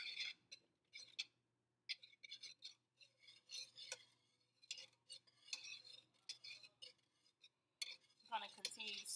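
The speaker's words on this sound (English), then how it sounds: "I'm going to use my whisk and go ahead and continue to stir" A whisk scrapes and clinks against a pan while stirring a cream cheese Alfredo sauce, with irregular metallic taps and scrapes in bursts, close and fairly quiet, interspersed with brief pauses.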